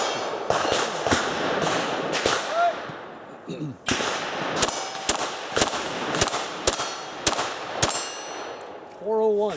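Gunshots ring off steel targets in a scholastic steel challenge shooting competition, a rapid series of sharp cracks each followed by a metallic clang, loud and close, with a short pause midway.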